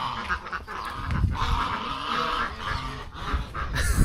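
Geese honking and squawking in a noisy, busy cluster outdoors, several overlapping calls at close range with no talking.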